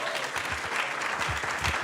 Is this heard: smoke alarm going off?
no